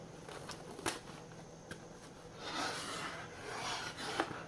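Thread being wrapped around a string ball ornament, a faint continuous rubbing rasp with a few small taps, swelling slightly in the second half.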